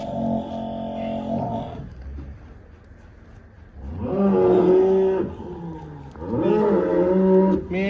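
A Sahiwal cow moos twice, long low drawn-out calls close by, separated by a quieter pause with faint background noise.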